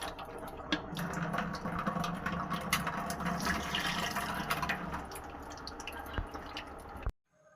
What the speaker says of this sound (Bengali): তো মা মাছগুলো পরিষ্কার করে ধুয়ে নিচ্ছে।